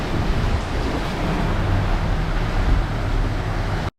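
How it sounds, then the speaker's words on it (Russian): Strong wind of up to 30 knots roars over breaking Pacific Ocean waves aboard a sailing yacht, a loud continuous rush of spray and gusts with no voices, cutting off abruptly at the end. "Ветер до 30 узлов, поэтому весь кокпит мокрый, заливает, несмотря даже на крышу, и льет соответственно."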